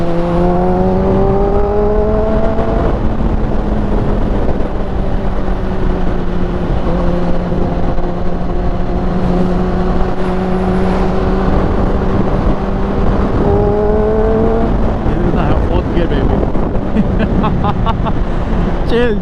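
A Kawasaki motorcycle engine held in fourth gear at around 5,000 RPM, a steady loud drone with rising and falling pitch as speed shifts slightly, accompanied by constant wind rush throughout.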